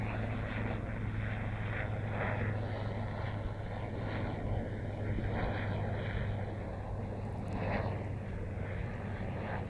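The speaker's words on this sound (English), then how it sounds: "here comes a helicopter" A helicopter passes overhead as a faint, distant, low droning rotor hum that holds steady throughout.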